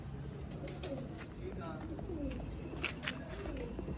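Pure black-faced Sialkoti pigeons coo softly on a rooftop loft, low repeated throaty calls rising and falling at moderate distance, with a few sharper chirps and rustles around them.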